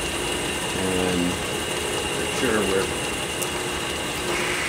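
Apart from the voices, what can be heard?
metal lathe turning, boring bar cutting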